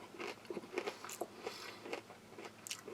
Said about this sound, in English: Those crackers are still crispy and crunchy.